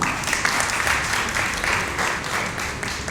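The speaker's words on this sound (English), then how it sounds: "Can we have another huge round of applause?" A conference audience breaks into a big round of applause, many people clapping in a dense, sustained wash that holds steady throughout with no speech over it.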